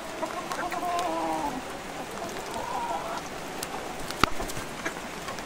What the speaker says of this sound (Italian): Piove forte, ragazzi.